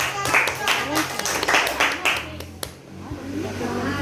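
Students in a classroom clap together in a few quick bursts, bright close claps mixed with young voices talking and cheering, then the room quiets briefly before chatter resumes.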